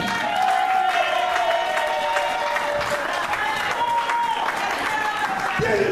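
A church congregation applauds during a sermon, with a sustained wash of clapping from the crowd and voices audible over it throughout.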